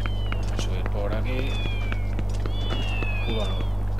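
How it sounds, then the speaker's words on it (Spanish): Cats meowing in the video game Zelda Twilight Princess HD, several drawn-out, rising and falling meows repeating over a steady low hum and game sounds, with people talking. "Uy, gatos cansinos."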